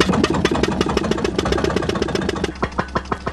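A small hit-and-miss model engine, throttle fixed and speed set by spark timing, runs after a flip start, with a busy, rapid firing chatter that thins into slower, separate spaced pops near the end.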